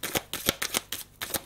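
Tarot cards being shuffled in quick, regular riffles, about seven crisp bursts in a steady rhythm, close and clear with no voices.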